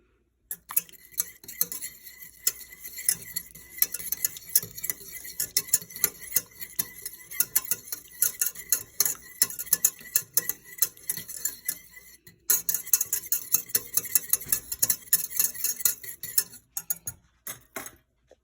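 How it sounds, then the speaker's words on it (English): A spoon stirs butter melting into broth for gravy in a pan on low heat, with continuous scraping and clinking against the metal in an uneven rhythm close by, with a brief pause midway. "I'm going to let that melt down and keep stirring it on low."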